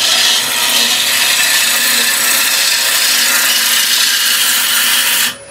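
A wood lathe turns a bowl made from scrap wood, giving a steady, loud scraping hiss of the tool cutting the spinning blank that runs continuously and cuts off abruptly near the end.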